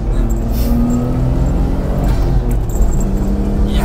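A Nissan wagon with an RB engine pulls hard under acceleration, a steady close low engine drone with faint road noise throughout, no pause in the sound.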